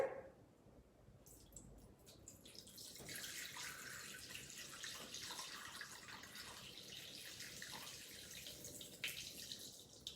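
Water running and trickling as it is poured into a Thermomix bowl set on kitchen scales, a steady faint splashing stream that starts after a quiet opening and continues to the end.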